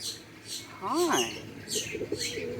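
Diamond doves cooing nearby, with soft rising-and-falling coos and a few brief chirps mixed with ambient noise, outdoors or in an aviary.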